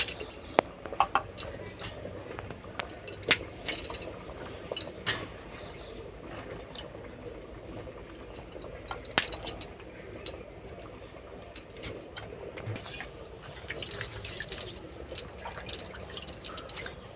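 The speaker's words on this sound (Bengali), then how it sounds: "প্রথমে আমি চালতাগুলোকে একটু ধুয়ে নিচ্ছি।" Elephant apples are rinsed by hand in water, with quiet close splashes, drips and scattered sharp clicks at irregular intervals and no one talking.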